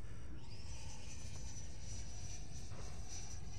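An FMS 80mm Integral EDF RC jet flies overhead, its ducted fan giving a distant, steady high whine that rises in pitch early on, over a low rumble of wind and outdoor noise.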